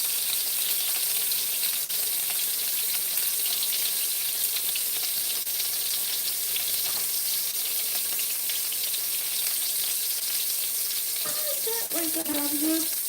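Food browns in a hot pan while blood pudding is made, a steady loud sizzle filling the whole stretch with faint clinks and stirring under it.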